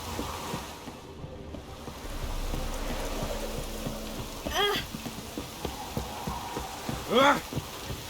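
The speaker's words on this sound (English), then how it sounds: "Proper downpour, this is." Heavy downpour in The Witcher 3 video game, a steady broadband hiss of rain filling the whole clip, with two brief vocal sounds rising above it.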